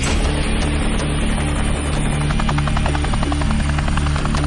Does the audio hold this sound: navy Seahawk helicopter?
yes